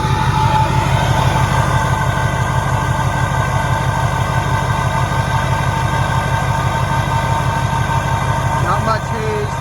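A 2005 Chevrolet Silverado with an LLY Duramax diesel idles after a cold start, a loud, close, steady rhythmic diesel clatter that continues evenly throughout, with someone speaking over it.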